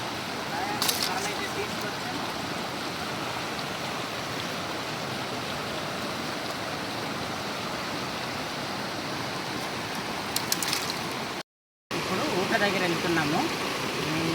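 Forest stream water flowing steadily in Araku tribal country, a continuous broadband rush that stays level throughout, with a brief gap near the end and faint voices in the background.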